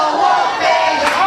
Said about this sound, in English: you hear the crowd getting behind Wolfie D, Jason James right here at the sawmill